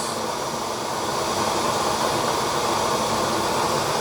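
Waste oil burner on a homemade stove with its flame turned up, giving a loud steady roaring hiss that holds constant throughout with no speech.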